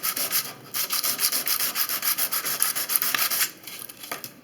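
Yellowed plastic of an electrical outlet is rubbed in quick, rhythmic back-and-forth strokes, a close, scratchy scrubbing that pauses briefly near the end.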